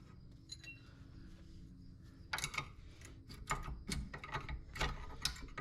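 Metallic clicks and ratcheting from a wrench working brake caliper bolts loose on the rear brakes of a 2012 Kia Sorento, a quiet run of scattered ticks followed by denser bursts of ratchet clatter, close by with no talk.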